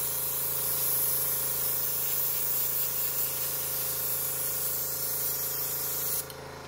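An aerosol spray can releases a steady, loud hiss of paint in custom work, running continuously for several seconds before cutting off abruptly near the end, with no voices.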